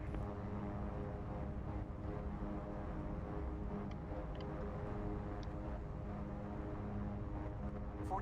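Twin turboprop engines of a King Air 350 in X-Plane 11 run at full reverse thrust, a steady low droning roar with a dense rumbling hum and faint ticking, constant and moderately quiet throughout.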